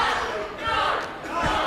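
A small crowd at an independent wrestling show in St. Mary's, shouting and cheering in a loud, close swell with a couple of thuds beneath.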